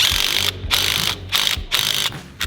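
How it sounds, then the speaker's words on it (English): Hand ratchet tightening bolts on a new Dexter axle under an Airstream trailer, with loud, fast clicking in repeated strokes of about half a second each, close by and without speech. "let's go ahead and we'll use our ratchet that we've got set up here"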